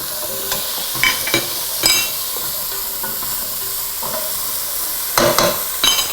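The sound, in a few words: stirring carrot ginger soup with a spoon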